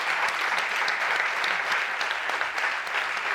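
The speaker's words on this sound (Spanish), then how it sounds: "te vamos a dar otro aplauso" An audience at a lecture claps steadily in a dense, sustained round of applause, even in volume from start to finish.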